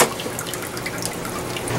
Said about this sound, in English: Put a little fish water in there for now.